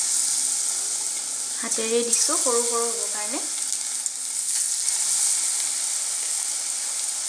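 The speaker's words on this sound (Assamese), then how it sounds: "ভাজিছো" Bhedailota leaf pakoras frying in hot oil, a close, continuous bubbling sizzle with a brief stirring or clattering burst partway through while someone talks.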